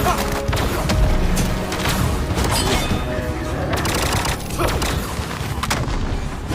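Rapid, loud gunfire pours from the Holy Horn, a pistol-shaped weapon in an animated Xtreme Vanguard Bataar battle, forming a dense, continuous barrage with mechanical clatter and booms throughout.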